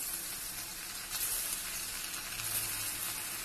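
A ragi flour mixture fries in a pan with a soft, continuous sizzle that swells slightly partway through. The sound is moderately quiet, with no voices.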